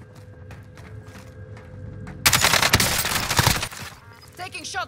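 Gunfire in Call of Duty: Modern Warfare, a sudden loud burst of rapid shots lasting over a second, then quieter game ambience with a voice speaking briefly.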